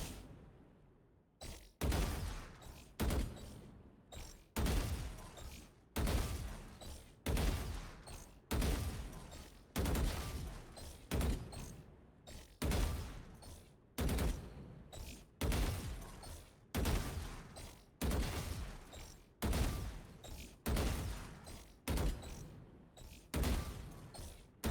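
Rapid rounds of gunfire in Valorant fired at medium and hard practice bots while strafing, loud, close bursts repeating steadily with short gaps throughout, no talking.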